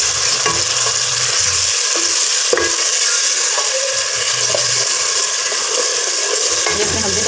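A large tomato frying in a pan while kadhi pakoda is prepared, giving a steady, loud sizzle with occasional stirring scrapes and no talking.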